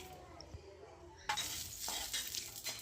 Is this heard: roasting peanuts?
yes